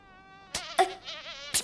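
A small fly buzzing close by in short, wavering bursts, interrupted by a few sharp taps.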